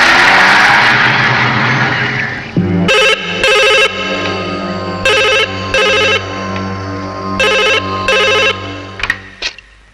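A telephone rings in a Hindi movie scene, loud electronic ring bursts repeating in a steady pattern of paired pulses over a car engine hum that fades in after a loud opening stretch.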